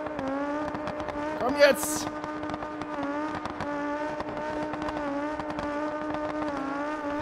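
A car in the game BeamNG.drive reverses downhill with a steady, droning engine whine holding one pitch throughout, briefly overlaid by a short rising squeal, while a voice speaks over it.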